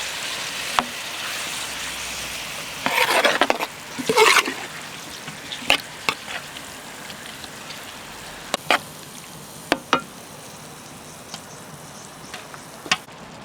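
Shrimp going into a pan of frying onion, where a loud burst of crackling sizzle rises as they land, followed by a steady background fry with scattered sharp pops and clicks, close and with no talking.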